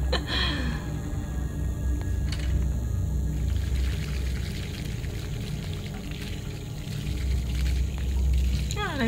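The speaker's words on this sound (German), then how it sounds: "Ja, dann gießt ihr die Blümchen auch" Water pouring onto flowers from a watering can in The Baby in Yellow, a steady continuous splashing pour with a brief clink at the start, under a low background hum, no talk.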